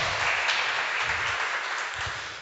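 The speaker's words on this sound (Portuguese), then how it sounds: "Dê uma salva de palmas para ele." A church congregation breaks into applause during an evangelist's testimony. The clapping is loud, full and sustained, and fades slightly toward the end.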